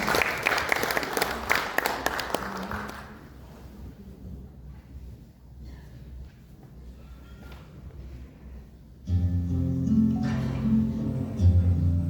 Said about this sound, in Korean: 다시 한번 박수로 모시겠습니다